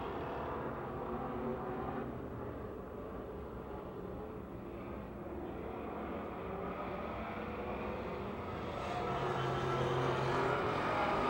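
Race cars at Pennsylvania Motor Speedway thunder around on the final lap, a steady dense engine roar from the pack, fairly loud and continuous, swelling slightly near the end.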